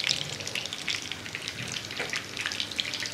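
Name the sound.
chicken kebabs frying on low flame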